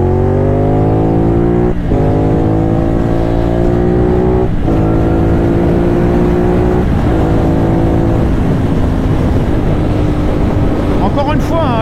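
A CFMOTO 450NK motorcycle pulls hard in third gear from about 50 km/h on a motorway on-ramp, engine pitch climbing steadily through loud, sustained revs, with wind roar building and a brief gear change near the end.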